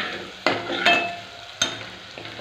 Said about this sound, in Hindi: अब हम इसमें थोड़ी सी हींग डाल देंगे।